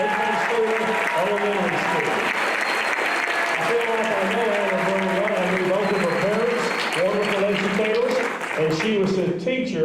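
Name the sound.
audience applause for Teacher of the Year finalist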